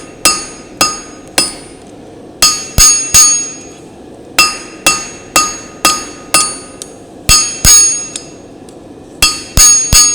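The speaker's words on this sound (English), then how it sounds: "So forging that notch over, flatten the material off, continue working that." A hammer forges hot steel for a knife, sounding as loud, ringing metallic strikes close by, usually in quick bursts of two or three with short pauses between, and no voices.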